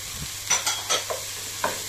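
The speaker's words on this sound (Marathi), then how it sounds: "हे सर्व मस्तपैकी असं आपण परतून घ्यायचं आहे।" Chopped onion, corn and finely chopped tomato are stirred in hot oil in a pan for kande poha, giving soft sizzling and several scraping spoon strokes in quick bursts.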